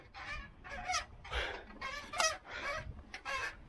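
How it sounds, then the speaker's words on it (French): A bicycle squeals loudly on an uphill climb, giving repeated harsh, shrieking bursts at an irregular rhythm, close and prominent, like an enraged hen, with no talk over it. "Pendant les montées, je peux entendre le vélo hurler à la mort."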